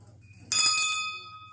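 A small school bell at an African school rings once with a clear, bright ding that lingers and slowly fades, heard close by in a quiet space.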